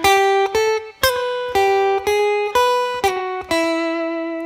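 Blues guitar lick over the five chord, sliding up to the root and then picking single notes one at a time, each clean note ringing out before the next, played alone, close and clear with a long final sustain.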